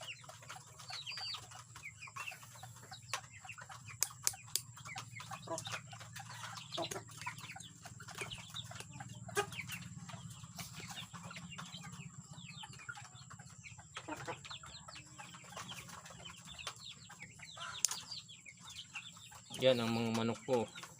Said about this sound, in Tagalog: Yan ang mga manok ko.